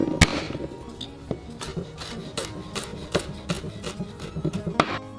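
A knife chopping garlic on a board for fish masala, with a quick run of light, irregular taps and a few louder knocks close up and no talk.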